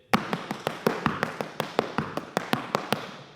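Irish dance treble and bang steps, hard shoes striking the floor in a quick, even series of about eighteen sharp taps, close and crisp with no voices.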